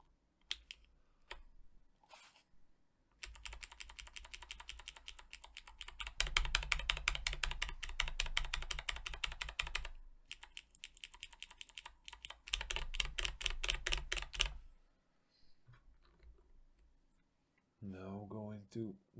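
Rapid clicky typing on Kailh Pale Blue switches, a fast, crisp run of sharp clicks in bursts with short pauses, close and clear, with a brief voice near the end.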